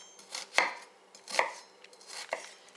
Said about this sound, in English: you have to dice this onion